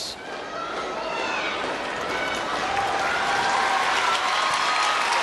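Volleyball arena crowd applauding as an injured player gets back up, steady dense clapping and crowd noise sustained throughout, swelling slightly toward the end.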